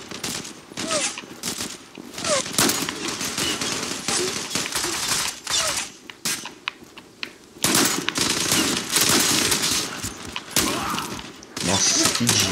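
Sniper and automatic gunfire in the online shooter Zula, a dense series of loud shots and bursts with brief gaps, under game effects and someone talking.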